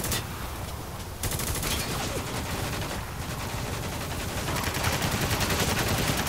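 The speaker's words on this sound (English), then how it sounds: "Give me some cover fire!" Sustained heavy gunfire from the video game Spec Ops: The Line: rapid automatic bursts and overlapping shots fill the whole stretch, loud and dense, with rattling fire building toward the end.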